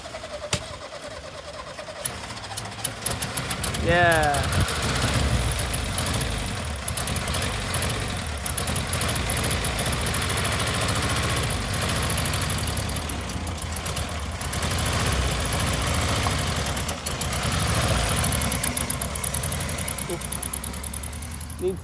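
A 1973 Volkswagen Sports Bug's engine cranks, catches and settles into a loud, rough, uneven idle that runs steadily to the end, suggesting it needs a tune-up; a person briefly speaks near the start.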